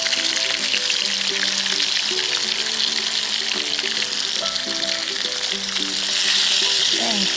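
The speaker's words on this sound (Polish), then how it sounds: "Ale ślicznie się smażą." Steady sizzling of parasol mushrooms frying in a pan, a continuous crackling hiss with occasional stirring sounds, close and fairly loud, no talking.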